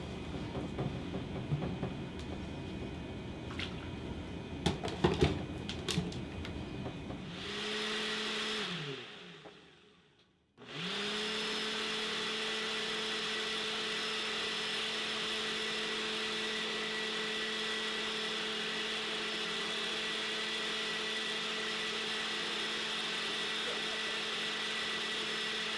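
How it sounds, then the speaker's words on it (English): A blender whirring through an aloe vera smoothie, starting with a sharp motor surge after a brief pause, then running as a steady, loud, even drone for a long stretch, with some knocking and handling noise at the start. "let's get blending"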